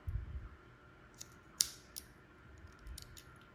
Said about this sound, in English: we're doing a little snip